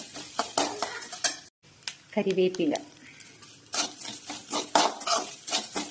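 Coconut roasting in a pan with garlic, shallots and curry leaves, stirred steadily with a metal spoon scraping and clinking against the pan under a soft sizzle, while someone talks over it.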